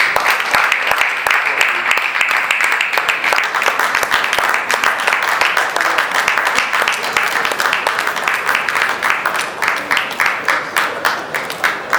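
Sustained applause fills a hall at an entrepreneurship and innovation summit, many hands clapping loudly and steadily for twelve seconds, settling into a faintly rhythmic pulse near the end.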